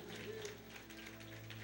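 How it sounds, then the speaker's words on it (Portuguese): Church congregation applauding during a worship service, a steady wash of clapping from a crowd with a low sustained hum underneath and faint voices mixed in. "tomem o seu assento aplaudindo a Jesus"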